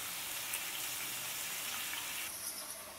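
Onions and green chillies frying in a pan, a soft continuous sizzle and crackle with a few brighter spatters, fairly quiet and with no talk.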